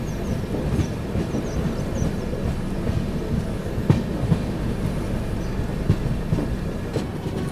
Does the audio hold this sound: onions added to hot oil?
no